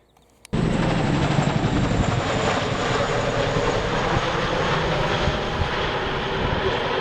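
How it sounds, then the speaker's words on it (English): A Chinook helicopter flies overhead above a river valley in the Yorkshire Dales. Its loud, continuous rotor and engine roar kicks in abruptly and holds steady throughout. "Chinook helicopter there."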